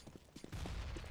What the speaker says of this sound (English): Flames and Mac 10 bullets heading towards his direction